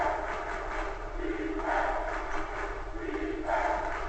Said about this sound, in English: You hear the crowd right now.